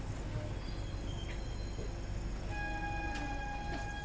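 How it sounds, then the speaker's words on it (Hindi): A train at Talbehat railway station, heard as a steady loud rumble throughout with sustained horn-like tones joining partway through, close and continuous, with no talk. "उधर तो कोई ट्रेन आ रही है"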